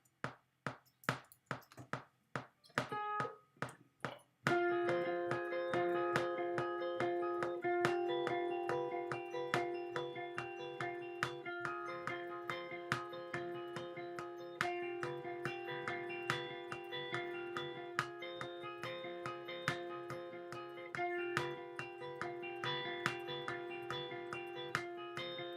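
Steady metronome clicks at 142 bpm, an accented count-in followed by a regular beat under a sustained guitar part from a lesson on Don't Fear the Reaper; clicks are crisp and evenly spaced throughout.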